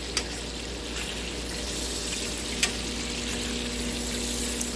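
Pan-seared steaks with herbs and garlic sizzling steadily in a hot pan as they are flipped, a continuous loud hiss broken by a couple of sharp clicks, with no talking.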